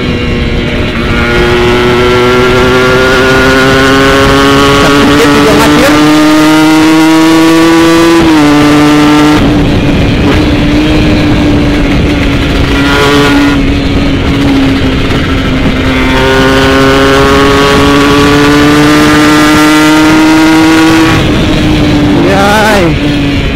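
A Kawasaki Ninja RR two-stroke with a TM 32 carburetor revs loudly up close, engine pitch climbing in long sweeps, dropping back, then rising again with sharp throttle blips.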